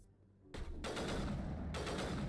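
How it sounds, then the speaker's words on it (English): A burst-fire sniper rifle in Mass Effect lets off loud, fast volleys of crackling shots, two dense bursts nearly filling the moment after a short quiet start, with no talking. "Oh, this is a burst sniper?"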